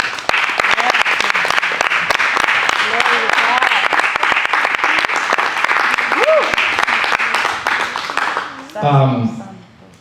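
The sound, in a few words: applause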